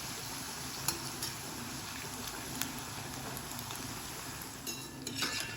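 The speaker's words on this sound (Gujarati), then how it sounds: "આપણે બધી ક્રિસ્પી થાય ત્યાં સુધી તળી લઈશું" Maida patti papdi frying in oil until crisp, a continuous soft sizzle with occasional scraping clinks of a utensil stirring in the pan, no talking.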